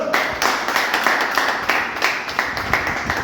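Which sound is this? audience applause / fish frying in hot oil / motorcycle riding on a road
audience applause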